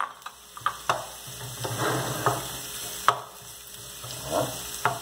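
Garlic sizzling in chicken fat in a pan, a soft steady fry broken by several sharp clinks and scrapes of a utensil stirring, close and fairly quiet with no talk.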